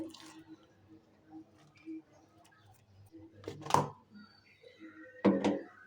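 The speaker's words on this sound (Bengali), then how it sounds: "এখন আমি ভালো করে মাখায় নিব।" Mashed potato and onion are kneaded by hand for potato chops, giving two soft, wet squelches that stand out from quiet, sparse handling noise in a calm kitchen.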